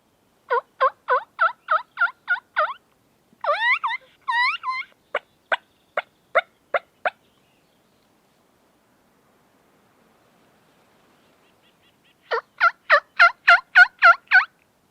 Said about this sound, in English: I've got some turkey coming in way down the pasture.